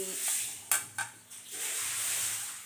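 Kitchen sounds of mixed-flour dosa batter (ragi, wheat and jowar flour, semolina, curd) being made on a pan: a steady low hiss with a few sharp metallic clinks of a utensil against the pan near the middle.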